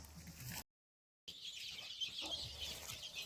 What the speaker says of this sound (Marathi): ही पहा ही ओरिजिनल गावठी कोंबडी आहेत लहान पिल्ले आहेत